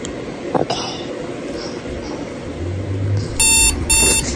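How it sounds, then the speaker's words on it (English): A bedside alarm clock goes off with two loud bursts of rapid electronic beeping near the end, following a stretch of quiet room sound with faint murmuring. "just my alarm clock."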